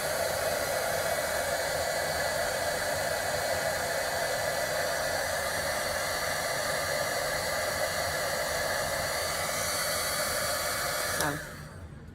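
A heat tool blowing hot air onto a heat-seal wire connector joining two wires: a steady, loud, hissing whoosh that runs unbroken, then cuts off abruptly near the end.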